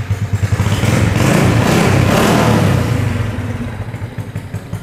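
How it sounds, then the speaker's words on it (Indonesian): A Honda Karisma motorcycle engine with an open air filter runs loud and close, revving up to a sustained roar with a rough, airy intake rush before easing back down. "mesinnya tuh suaranya halus banget. Kalau ada bunyi kayak udara itu karena kita open filter"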